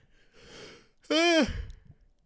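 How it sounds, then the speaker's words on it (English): A single drawn-out yawn with a rising, tonal vocal stretch, preceded by a soft breath, close and fairly loud, heard amid talk about an MMA knockout. "Just a random yawn in the middle of all that, huh?"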